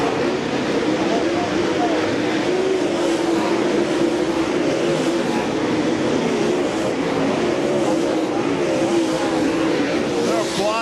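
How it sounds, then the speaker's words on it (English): World of Outlaws late model race cars roar continuously around a dirt oval at I-55, a dense, loud engine drone with no break, as an announcer talks over the action. "Watch the 28 car of Jimmy Mars as he works down the back straightaway into 3 and 4"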